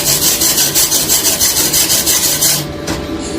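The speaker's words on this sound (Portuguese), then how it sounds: "Eu vou escovar aqui, ó, pra vocês verem que ela atravessou o material." A wire brush scrubs a fresh weld on metal plate in quick, rhythmic back-and-forth strokes, loud and close, then slows and fades near the end.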